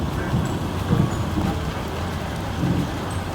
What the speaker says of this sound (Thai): อันนี้ฝนตกนะ